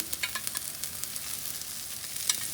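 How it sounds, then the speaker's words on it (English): Ginger, curry leaves and vegetables fry in a pan, giving a steady close sizzle with scattered crackles and soft stirring scrapes, no voices. "Now let's fry all this."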